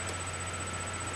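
A faint, steady whirring hum of computer fans with a constant low drone and a thin high whine, unchanging throughout, with no talking.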